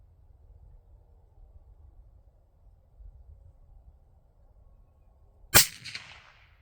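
A single suppressed rifle shot through a SilencerCo suppressor, a sharp sudden crack with a short decaying tail after several seconds of quiet outdoor background.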